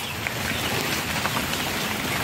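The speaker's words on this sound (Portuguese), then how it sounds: "É muita chuva, muita água." Heavy rain pours steadily, loud and close, a dense unbroken hiss with scattered drop impacts, flooding around a chicken coop.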